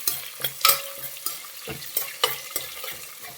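Fenugreek seeds, cumin, onion and garlic fry in a pan, with quiet sizzling broken by repeated scraping stirs of a spoon at an irregular rhythm, close and fairly soft.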